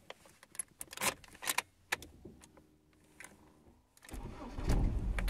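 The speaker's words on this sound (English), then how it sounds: "So let me just turn the engine on" Car engine starting after some keys jangling and clicks, the starter catching around the midpoint and the engine settling into a low, steadily louder idle; slightly stiff accelerator and erratic rev counter noted.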